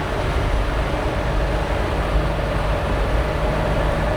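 A 1937 Ford pickup truck cruising at about 70 mph, a steady loud broadband roar of engine, road and wind noise that holds constant without any talking.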